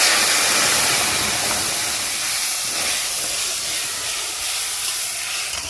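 Ginger and green chilli paste sizzles in hot oil in a pan, a loud continuous hiss that stays steady and close throughout with no speech.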